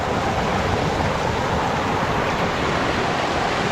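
Water rushes steadily down a stream at Daringbari, Odisha, flowing from higher ground in a loud, continuous roar that stays close and unbroken throughout.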